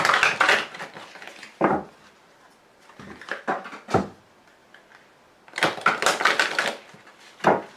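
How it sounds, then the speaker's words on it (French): Tarot cards handled and dropped during a reading, crisp papery flicks and slaps coming in several close bursts with quiet gaps between, no talk. "Alors j'ai encore fait tomber une carte."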